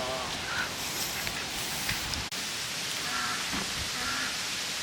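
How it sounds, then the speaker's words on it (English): Gusty wind buffets a microphone outdoors, a steady loud rumbling roar with a sharp dropout midway and faint bird calls in the background. "I apologize for the wind."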